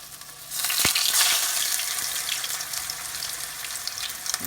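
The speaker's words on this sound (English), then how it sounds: "Get your good little sizzle going there." Sliced green tomatoes frying in hot sesame oil, a steady bright sizzle that swells as the slices go into the pan and then holds as a continuous close crackling hiss, with no talking.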